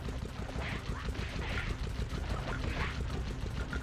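A turret in Sly Cooper and the Thievius Raccoonus fires rapidly at enemies, a dense, continuous stream of loud, close gunfire rattling steadily without a break and with no talk over it.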